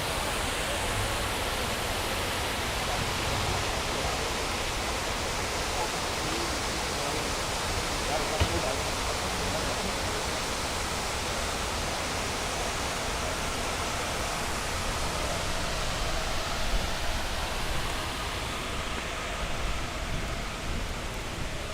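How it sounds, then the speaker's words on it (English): The waterfall of the 9/11 memorial reflecting pool in New York, on the footprint of the North Tower, pours in a steady, broad rushing roar that stays constant throughout. "the waterfall is supposed to drown out the sound of the city"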